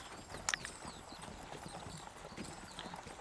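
Horse hooves clip-clop at a steady, light pace, used as a sound effect in a tabletop role-playing podcast, heard fairly close, with a sharp brief accent near the start and no speech.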